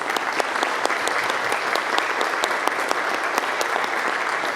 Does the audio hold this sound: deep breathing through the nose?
no